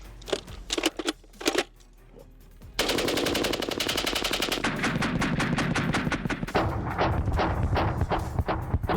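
Gatling gun fire in a comedy skit: a few short sharp bursts, then a long, loud, continuous rapid rattle of shots that keeps going with only slight changes in intensity.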